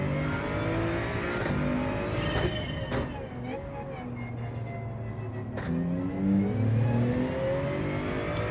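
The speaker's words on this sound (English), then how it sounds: "Just got to kind of listen out for the engine though, while everything else is going on." A Toyota Supra Gr.3 race car engine in a Gran Turismo 7 race at Sardegna Road Track, revving and shifting continuously as a steady loud drone, with someone talking over it.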